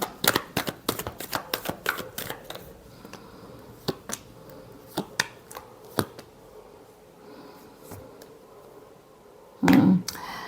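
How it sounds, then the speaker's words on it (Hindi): Tarot cards are shuffled by hand in a rapid series of crisp flicks and riffles, close and fairly loud, ending with a short dense burst of shuffling near the end; no one speaks. "last shuffle"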